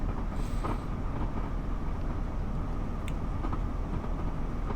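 A train in the Train Sim World 6 video game rumbles steadily along at slow speed with low, continuous engine and wheel noise, broken by a few faint clicks and squeaks of the rails.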